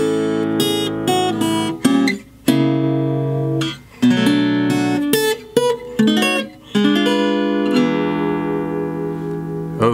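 A jazzy acoustic guitar plays the intro to a song in A: plucked chords and single notes ring out in clear, separate strokes, each decaying before the next, with no voice.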